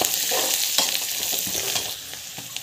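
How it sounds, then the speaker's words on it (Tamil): Chana dal, green chili and turmeric sizzle in a hot pan, a steady close frying hiss broken by irregular scrapes and taps of a spoon stirring, with no talking. "ஸோ மஞ்சள் தூள் ஆட் பண்ணி நல்லா வதக்கிட்டுருக்கோம்."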